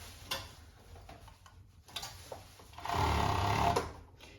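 A sewing machine stitches winter pajamas, first with scattered ticks and short starts, then a steady whirring run of stitches near the end, close and fairly quiet.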